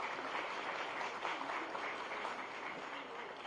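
A crowd applauds steadily at a formal event in Gandhinagar, India, a dense wash of clapping at moderate volume lasting a few seconds.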